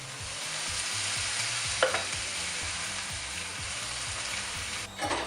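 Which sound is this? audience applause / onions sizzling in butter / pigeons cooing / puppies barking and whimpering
onions sizzling in butter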